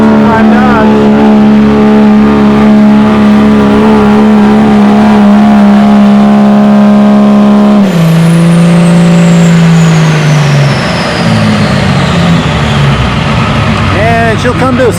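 A diesel Dodge pulling truck named Vixen roars at full power down a tractor pull track, a loud sustained engine drone that drops in pitch as it bogs and slows near the end, with an announcer talking over it.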